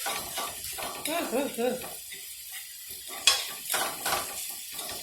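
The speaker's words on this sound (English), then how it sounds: "So now I have to brown my vermicelli." Vermicelli browning in a pan, a soft sizzle broken by stirring scrapes and clinks of a utensil against the pan, with a voice speaking briefly early on.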